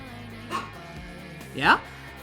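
A dog gives two short whimpering yips about a second apart, close and fairly clear, with a voice talking nearby.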